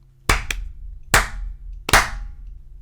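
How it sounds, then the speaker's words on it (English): A small group clapping in unison on a count: three sharp, loud, close claps spaced under a second apart, the first one doubled, with no talk over them. "That was the best clap I think we've ever had."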